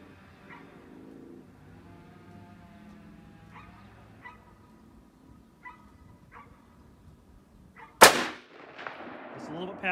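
A rifle fires once at a tannerite target 200 yards away, a sharp loud crack followed by a trailing report, after quieter stretches with scattered dog barks and some talking.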